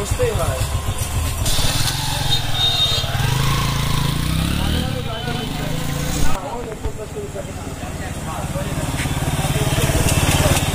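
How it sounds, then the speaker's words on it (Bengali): A TVS Star Sport motorcycle, just refitted after a faulty connecting rod was replaced, revs up and settles repeatedly, its close engine note rising and falling while someone talks over it. "তো এই অবস্থায় আমরা বাইকটাকে একটু টায়াল দেব।"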